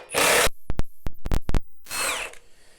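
A Milwaukee impact driver runs in a loud sustained burst, stops, gives a series of short sharp triggered pulses, then runs again in a final longer burst, close and alone with no talking.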